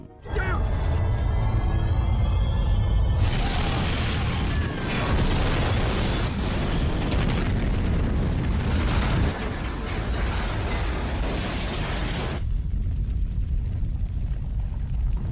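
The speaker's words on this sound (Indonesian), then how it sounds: "Ledakan begitu dahsyat" A loud, sustained roar of an explosion with crackling debris and rumbling, continuing for several seconds before dropping away abruptly near the end.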